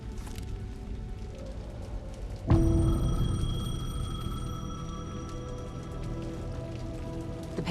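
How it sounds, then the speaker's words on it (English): A payphone rings amid steady rainfall in a dark, atmospheric Alan Wake 2 game scene; rain hiss fills the start before a sudden, sustained ringing tone rises over the downpour and continues to the end. "The payphone was ringing."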